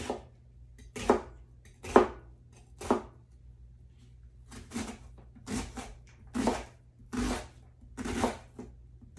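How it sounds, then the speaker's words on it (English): A kitchen knife finely dices an onion on a cutting board, with bursts of quick close chops separated by short pauses in an uneven rhythm. "first we're gonna really finely dice this onion"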